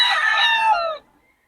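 A single rooster, a bull stag gamecock, crows once up close, a bright one-second call that cuts off sharply into quiet.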